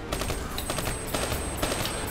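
Rapid, continuous gunfire crackles in overlapping bursts in a Call of Duty: Black Ops III shootout, steady and fairly loud throughout.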